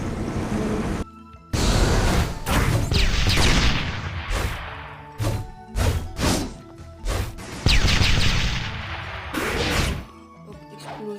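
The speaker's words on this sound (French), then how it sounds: "Hop, explosion." Video game explosions burst out in a series of loud, booming crashes, several heavy blasts with rumbling tails broken by short gaps of near silence, and no talking.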